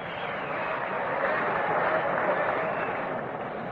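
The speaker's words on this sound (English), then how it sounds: "Getting a nice hand from the crowd for that great stop that he made" Crowd applause at a 1964 World Series baseball game between St. Louis and New York: a steady, hissing wash of distant clapping from a large stadium crowd that holds an even level throughout.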